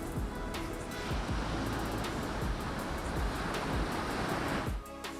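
Ocean surf rolls in at Pandawa beach on Bali at high tide, a steady loud wash of breaking waves with wind noise that continues unbroken until it fades near the end.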